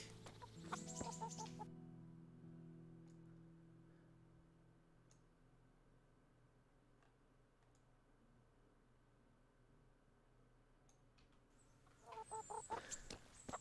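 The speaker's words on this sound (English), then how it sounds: "Chickens." Chickens cluck in the video game Kingdom Come: Deliverance, in the Rattay area. Short clucking bursts come at the start and again near the end, with a quiet, sparse ambience between them.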